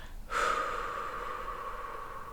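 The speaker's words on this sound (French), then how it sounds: "Inspire. Expire. Encore une fois. Inspire." A deep breath taken during a guided meditation, a sudden sharp nasal inhale followed by a long, steady airy exhale, close and fairly quiet.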